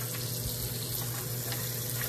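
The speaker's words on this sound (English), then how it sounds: "So I got the ice in the sink right now with the hot water going to melt it." Hot water pours from a tap onto ice in a sink, a steady close hiss and splash with a faint crackle as the ice melts. It runs alone, with no talk.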